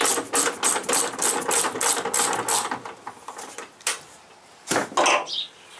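A hand ratchet loosens the last strut top bolt on a Chevy Equinox during front strut replacement. Rapid close clicking bursts come in quick strokes, then pause, then a couple of final bursts follow, with no speech.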